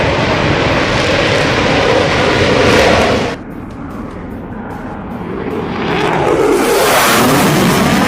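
Military aircraft, an A-10 Warthog and fighter jets, fly over with a loud continuous engine roar that dips briefly midway, then swells again as another pass comes through.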